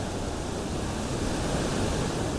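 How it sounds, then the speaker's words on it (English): Rushing water from a spillway beside the Niagara River near Lake Ontario, a steady, loud broadband roar with no breaks, like heavy surf or a waterfall close by. "What you're hearing is a combination of the spillway and the Niagara River."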